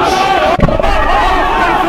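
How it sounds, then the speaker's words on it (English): Crowd cheering at a university rugby match between Bath and Durham, a dense continuous roar of many voices with a brief dip partway through, loud and sustained throughout. "The crowd cheer them on."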